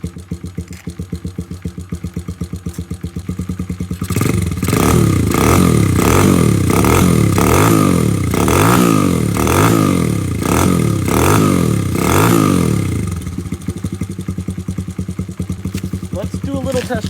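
A carbureted engine with its choke deleted idles in a steady fast chatter, then revs up in repeated rising and falling surges for several seconds before settling back to idle, loud and close.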